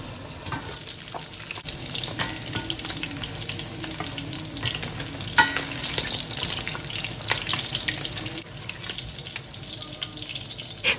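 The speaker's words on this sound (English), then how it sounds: "go ahead and fry your beef until they are caramelized and brown like this" Beef frying in olive oil in a pot gives a steady, close sizzle with occasional stirring scrapes and crackles, continuous and fairly loud.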